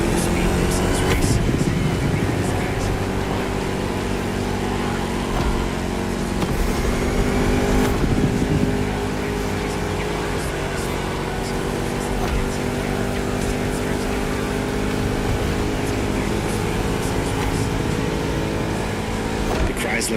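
A Chrysler 300 SRT8 with a V8 Hemi racing in The Crew Motorfest, a loud continuous engine drone with shifting revs and gear changes, heard under a voice.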